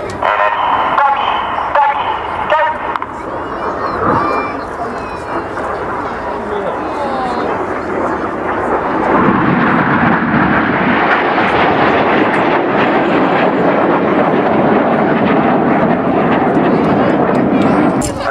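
Red Arrows jets fly the infinity break manoeuvre at RNAS Yeovilton, a loud, sustained roar of jet engines that swells and shifts overhead.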